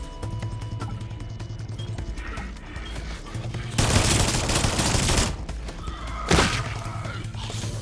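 Gunfire in an insect simulator video game comes as bursts of loud, rapid shots. One long volley is followed by a shorter sharp blast, set against a steady game background hum.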